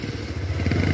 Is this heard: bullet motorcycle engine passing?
yes